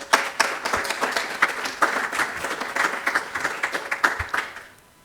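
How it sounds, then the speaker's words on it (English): A round of applause from attendees at an annual lab network meeting, dense clapping from a group in a hall, fairly close and steady for about four seconds before tapering off. "I think we can give ourselves a round of applause."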